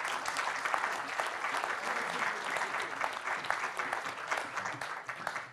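An audience at a regional savings event in Hauts-de-France claps to welcome three guests, a full, even burst of applause that carries on for several seconds and tapers slightly at the end.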